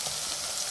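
Green chilli paste, ground fresh in a mixer, sizzles in a little oil in a pan beside golden fried onions, a steady soft frying hiss with no voices.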